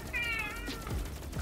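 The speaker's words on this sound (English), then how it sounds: "Whose cat is that?" A cat meows in a Destiny 2 game scene, a single clear drawn-out meow with a rising, wavering tone over steady background game ambience, followed by faint softer noises.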